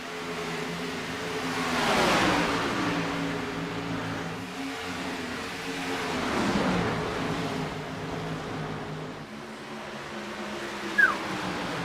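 Race cars lapping an oval track during the Heartland 300 night race, engines roaring past in swelling sweeps that rise and fade every few seconds from a steady distant drone, with one brief sharp chirp near the end.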